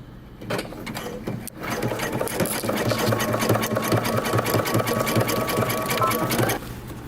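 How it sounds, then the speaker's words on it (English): Close and loud, a sewing machine runs a narrow zigzag bar tack on a jeans waistband, whirring steadily for about five seconds after a short start before easing off. "I'm going to switch to a narrow zigzag stitch"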